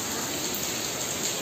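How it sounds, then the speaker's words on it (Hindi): Dense, steady rainfall hisses continuously and loudly, a constant wash of falling water with no pauses. "बहुत तेज बारिश हो रही है"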